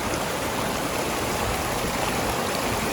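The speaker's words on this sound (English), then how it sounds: "I'm in the middle of a creek crossing" Steady rushing creek water flowing close by at a creek crossing in a wilderness area, a continuous broadband wash with no pauses or voices.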